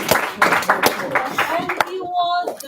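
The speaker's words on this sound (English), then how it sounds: "I think, yes, you can applaud him." A few people clap for a student during a live English lesson, giving brief, scattered hand claps. A voice talks over the clapping.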